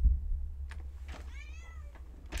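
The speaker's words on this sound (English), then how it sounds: "My cat. Ignore that." A house cat meows in a drawn-out, rising-and-falling call near the middle, with brief faint noises before and after it over a low background hum.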